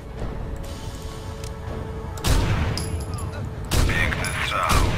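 Gunfire in Tom Clancy's Rainbow Six Vegas, a tactical shooter game: a couple of loud, sharp bursts of shots cut in over a steady background of in-game ambience and music.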